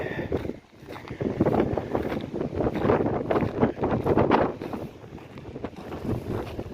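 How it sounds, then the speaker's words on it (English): Heavy wind buffets the microphone outdoors at a desert mining site in Searchlight, Nevada, a continuous low rumbling roar with gusty swells throughout, no speech. "I'm sorry about the wind"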